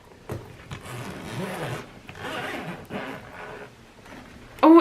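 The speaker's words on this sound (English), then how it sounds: "So the zip goes all the way down there." A zipper on a vintage-style bag with a shiny handle being drawn open along its length, a series of rasping scrapes and rustles at close range, ending in a sharper louder handling sound.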